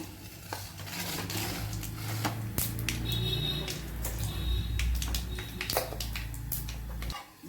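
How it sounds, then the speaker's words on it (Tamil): Mustard seeds crackle and spit in hot oil in a pan while dried fish fries for Tamil karuvadu rice: a dense scatter of sharp pops and clicks over a steady low stove hum, close and continuous. "இப்போ இந்த கடுகு பொரியட்டும்"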